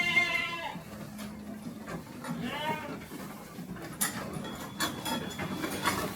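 Sheep at a farm in Dieng, Indonesia, bleat in a few short wavering calls over steady background murmur and faint voices, fairly close and moderately loud.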